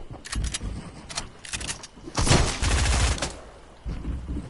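Shotgun blasts in Fortnite Chapter 2 Season 3, a handful of sharp separate bangs spread unevenly over a few seconds, with a louder, denser stretch of noise in the middle and a final shot near the end.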